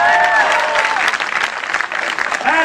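Crowd applause at a college poetry gathering in Delhi, loud and sustained throughout, with voices mixed in over the clapping.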